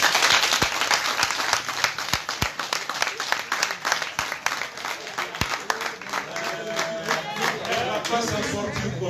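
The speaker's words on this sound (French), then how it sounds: "je voudrais qu'on applaudisse pour Adama" Theatre audience applauding after a stage play, dense sustained clapping from a full crowd with a few sharp individual claps standing out, loud and continuous throughout, with scattered cheers and voices mixed in.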